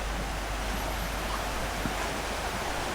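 Shallow, rocky river running low over stones beside a campsite in Gopeng, giving a steady, even wash of flowing water throughout with no voices.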